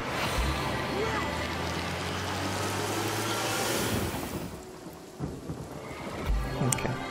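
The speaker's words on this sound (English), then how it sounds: "Followed by raining to make the chest stop burning." A rain and thunder spell in the video game Divinity: Original Sin: heavy rain pours with a deep rumble of thunder underneath, the storm easing and thinning toward the end with a few scattered crackles.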